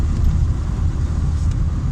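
An older Volkswagen Golf Cabriolet Etienne Aigner edition with about 246,000 km driving on a road, heard from the cabin as a constant low drone of engine and road noise, steady and loud, with no voices.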